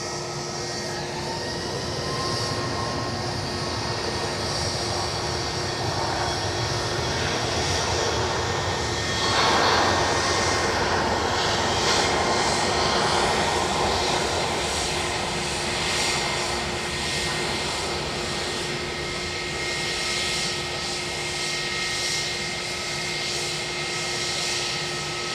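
An aircraft passing at Edinburgh airport, a loud, sustained engine roar that swells toward the middle and slowly fades, steady and continuous with no talk.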